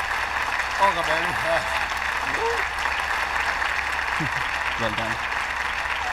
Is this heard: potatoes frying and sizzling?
no